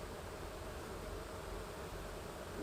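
A dense, steady hum of many honeybees swarms as extra bees are shaken off hive frames, a continuous close buzzing wash with no distinct breaks and no speech.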